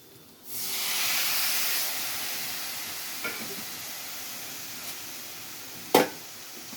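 Tomato pieces drop into a hot pan for a tomato curry, starting a steady broad hiss of sizzling steam that holds throughout, with a couple of faint taps and one sharp clack near the end.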